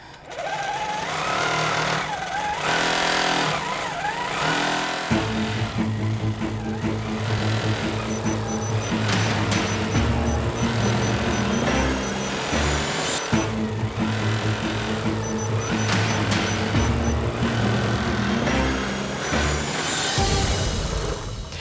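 Sewing machine running steadily while quilting back across a jelly roll quilt during a race, its motor buzzing loud and continuous with brief pauses and restarts, faint background voices and noise throughout.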